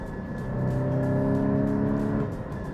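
Porsche GT4 engine in stock form, heard from nearby as a steady engine note that swells into a brief rev over a couple of seconds and then eases back, with no talking.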